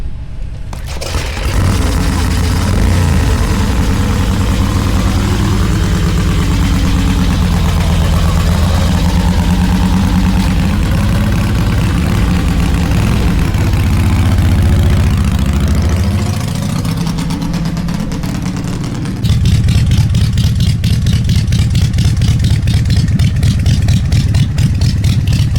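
A kick-started motorcycle engine at a chopper event runs loud and close, idling with a lumpy, pulsing beat and revving in shifting swells. Near the end it settles into a sharper, faster-popping rhythm.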